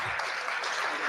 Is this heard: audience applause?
yes